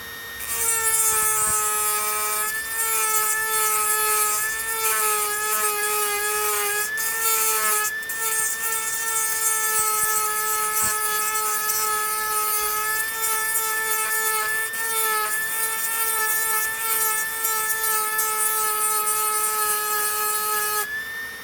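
A Dremel rotary tool with a diamond burr carves and sands a walnut, a continuous high, whining motor tone with raspy grinding texture that stays loud and steady throughout.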